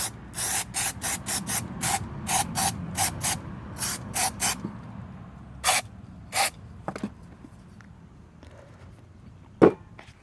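Throttle body cleaner sprayed onto the internals of a supercharger blower with Teflon-coated blades, a run of short sharp aerosol bursts in quick succession, then a few spaced single sprays and one louder final burst, close and alone.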